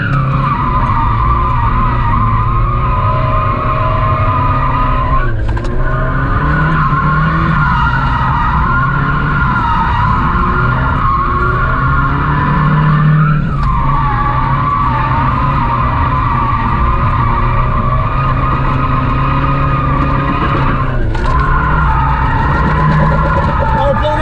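A Mazda Miata drifts continuously with its tires shrieking and skidding loudly over a revving engine, the squeal rising and dipping in long waves, while voices talk over it.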